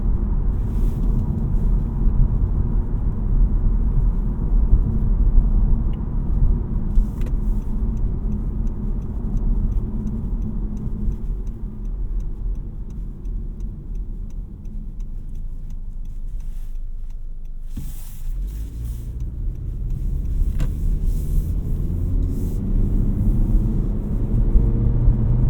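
A 2023 Honda Civic EX with the 1.5-litre turbo engine pulls hard under part throttle, its steady low engine and road rumble filling the cabin, with a brief dip partway through and no voices.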